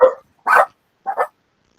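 Dogs bark nearby in short, loud yips, three to four quick barks separated by brief silences.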